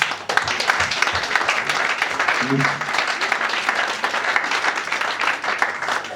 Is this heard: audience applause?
yes